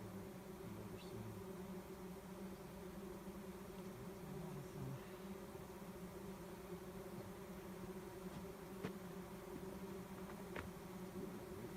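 Swarm of bees buzzing on a dirt forest road in the mountains, a faint steady drone of many insects with a few individual bees passing close, continuous and without talk.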